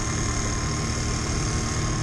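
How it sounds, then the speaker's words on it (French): A small 50cc four-stroke Mash motorcycle coasts with the throttle closed, its engine braking with a steady, even drone and a low rumbling hum, continuous and close, no voices. "Regardez là j'accélère pas, on est que sur le frein moteur"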